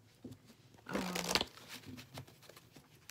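A short burst of tarot cards being shuffled, a quick riffle lasting about half a second, fairly close, with quiet room sound before and after.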